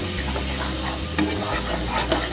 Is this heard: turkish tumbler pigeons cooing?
no